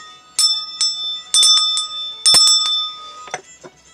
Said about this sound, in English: We ring the bell 3 times